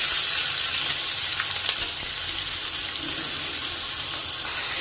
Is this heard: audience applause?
no